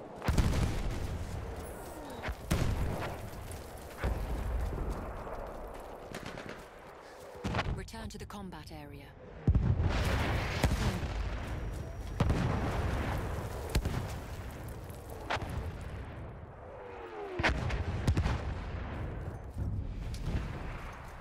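An enemy artillery barrage in Battlefield 1 delivers repeated heavy booms and blasts at irregular intervals, some near and some distant, with battlefield chatter and voices between the impacts.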